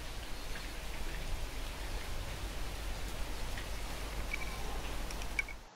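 Steady rain begins in the snowboarding game Alto's Collection, a continuous soft hiss with faint scattered droplet patter throughout, holding at an even level before cutting off at the end.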